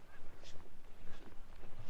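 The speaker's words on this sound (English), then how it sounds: "These stupid geese won't shut up" Wild geese honk near and far at an Alaska black bear hunting site, scattered calls repeating over a steady outdoor background.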